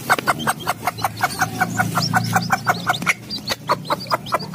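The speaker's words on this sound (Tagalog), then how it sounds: "Ayan, ang 3 sisiw." Three day-old serama chicks peep rapidly and continuously close by, their high chirps coming in a quick, regular rhythm over a soft low murmur.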